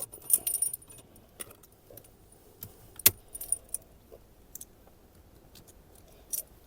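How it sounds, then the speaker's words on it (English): A fire extinguisher is slipped into its metal mounting cage and clipped shut inside a 2021 or later Toyota Tundra, giving a few scattered metallic clinks, rattles and sharp clicks against a quiet background. "slip the extinguisher into its cage and clip it all up"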